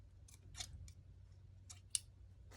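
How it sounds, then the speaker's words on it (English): Scissors snip through material in a handful of short, crisp cuts spaced unevenly over a low hum, quiet and close, with no speech. "I'm going to cut this."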